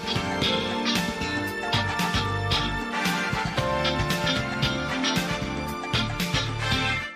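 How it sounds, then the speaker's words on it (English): Bright, funky city pop guitar chords strum in a bouncy rhythm over a full band groove with bass and drums, playing continuously without any talking. "All I know is a guitar that sounds like this."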